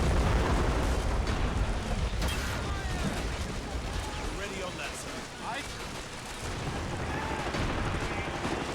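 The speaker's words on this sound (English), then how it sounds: "He got sniped from that rocket launcher up there." Rocket launcher blast and battlefield gunfire from a Men of War Assault Squad 2 multiplayer 3v3 match, a dense, continuous rumble of explosions and shots with a voice talking over it.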